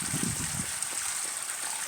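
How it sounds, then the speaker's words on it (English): Continuous rushing, gushing water pouring steadily into a newly installed pool, close and fairly loud, with no talking. "This is the pool, filling pool."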